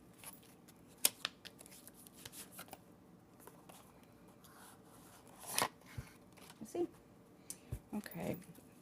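Oracle cards are shuffled by hand, soft riffling and slapping bursts with a few sharper card snaps, close but quiet, while someone speaks softly at times.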